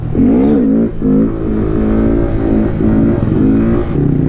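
A Honda Grom motorcycle engine revving hard while riding off-road on packed, rock-hard ground, loud and close, with the pitch rising and dropping in several throttle bursts.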